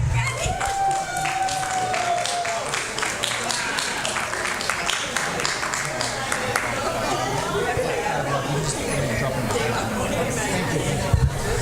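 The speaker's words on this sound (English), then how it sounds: "How about applause?" Audience at a senior center volunteer recognition event breaks into applause mixed with crowd chatter and hubbub, a steady moderate clapping wash with voices and a brief tonal sound near the start.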